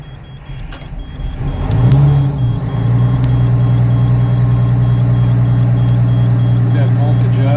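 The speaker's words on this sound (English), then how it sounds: "I think I need to start my bus when batteries are kind of low" Vintage GM bus engine cranking on low batteries, a strained starter whir rising into a steady low running drone that holds loud and close, with voices over it.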